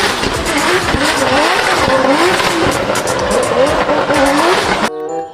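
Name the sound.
toy race car engine revving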